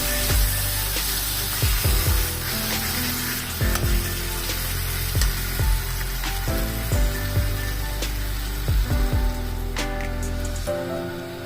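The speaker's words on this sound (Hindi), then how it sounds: "अब इसमें पानी डाल देंगे।" Water goes into frying masala in a pan to make gravy for an omelette curry. A continuous hiss and sizzle runs under repeated spatula scrapes, with a sharper change in the sound near the end.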